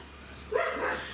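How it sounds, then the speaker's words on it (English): A dog barks in another room, a short muffled burst of barking heard at a distance indoors. "We're going to be serenaded by barking in another room"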